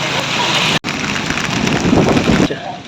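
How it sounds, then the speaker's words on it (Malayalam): Strong wind and rain roar as a dense, continuous wash of noise, loud and close, during a storm in Vadakara, with a brief cut near the start and a drop at the end. "നല്ല കാറ്റും മഴയൊക്കെ ഉണ്ട്"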